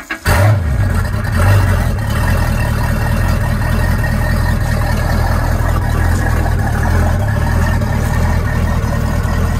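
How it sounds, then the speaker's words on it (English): An engine on a rare Silvestris 23 sports cabriolet boat turns over and catches, then settles into a loud, steady, rumbling run that holds unchanged for several seconds, close by with no talk. "here is a video of the engine starting and then running."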